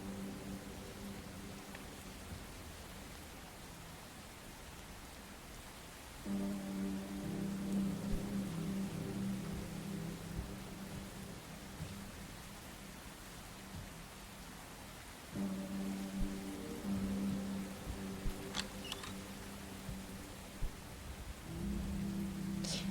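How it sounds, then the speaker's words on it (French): Steady rain hiss in a horror video game, Within of Static – Ashburg Rental, soft and continuous, with a low droning tone swelling in and out at intervals and a few faint distant knocks near the end. "je me suis réveillée au bruit de la pluie"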